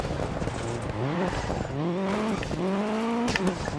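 An Audi or Subaru rally car in Dirt Rally 2.0 at full power, its engine revving up and down through repeated gear changes, loud and close, with tire noise underneath.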